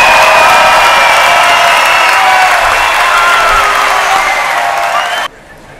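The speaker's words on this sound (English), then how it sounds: "please give a round of applause for the class of 2017" A crowd at the Midland High School graduation ceremony applauds and cheers the class of 2017, a loud, dense roar of clapping and voices that holds steady and then cuts off abruptly near the end.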